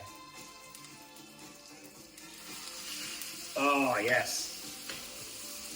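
A ribeye steak lands in a hot frying pan and bursts into loud crackling sizzle, the hiss swelling suddenly and then settling to a steady fry, with a brief voice heard over it.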